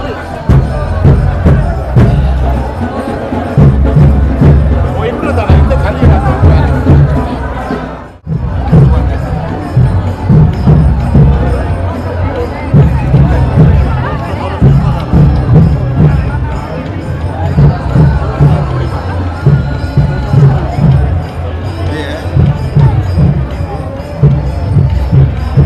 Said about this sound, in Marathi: ही बघा किती गर्दी आहे ती.